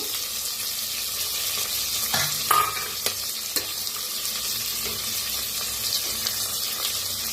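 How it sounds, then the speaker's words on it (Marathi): Peanuts and cashews frying in hot oil for masale bhat, a steady close crackling sizzle with occasional clinks of a spoon against the pan. "आता ह्याच्यात टाकूया शेंगदाणे, काजू"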